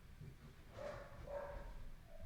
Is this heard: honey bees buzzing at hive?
no